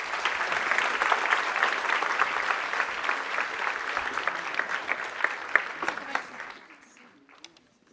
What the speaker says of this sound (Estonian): Teeme Erkile veel suure aplausi